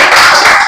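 A short dense burst of clapping from students in a school gathering, loud and close, lasting under a second.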